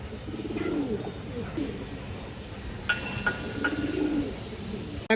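Pigeons, including a red-eyed one, coo in low, throaty rolls a couple of times while someone talks over them.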